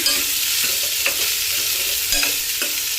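Potato curry with chili powder, turmeric and salt stirred in a hot pan, a dense steady sizzle with a few spoon scrapes and taps against the pan, close and loud, no speech.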